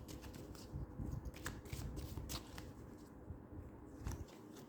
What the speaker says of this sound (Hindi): चलिए इसमें से मैं कार्ड निकाल देती हूँ